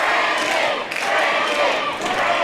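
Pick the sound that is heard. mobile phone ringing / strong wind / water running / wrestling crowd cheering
wrestling crowd cheering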